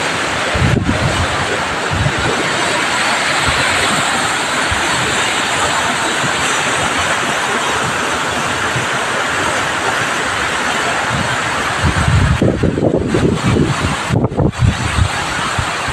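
Water roars over the Ghee dam on the Ghee river at Khambhaliya. It is a loud, steady rush from start to finish, with wind buffeting the microphone at times and no voices.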